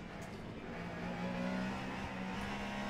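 LMP2 race cars in the Le Mans Ultimate racing game roar steadily at high revs, a continuous engine whine that rises slightly while passing through traffic, with no talk over it.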